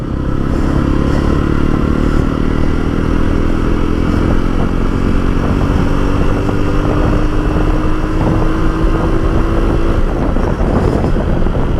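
A Jawa 42 2.1 BS6 motorcycle engine pulls steadily under acceleration while riding, loud and continuous throughout, its rising engine note carrying over wind rush and road clatter.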